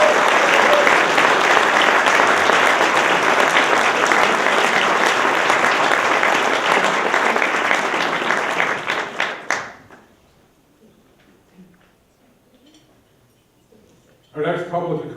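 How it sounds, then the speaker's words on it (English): Loud, sustained audience applause fills an awards ceremony hall for about nine seconds, then fades into near silence before a voice returns. "Let's give a big round of applause to the New England Center for Investigative Reporting."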